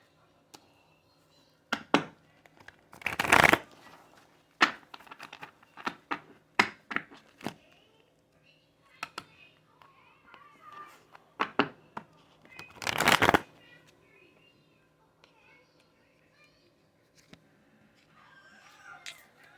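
Tarot and oracle cards being shuffled in several sharp riffling bursts with quieter handling and tapping between them, close and fairly soft, with a little talk.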